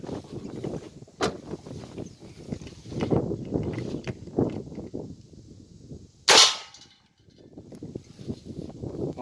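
Someone fires an air rifle loaded with a lead pellet: one sharp, loud crack near the middle, preceded by a fainter click, with people talking and moving about outdoors throughout.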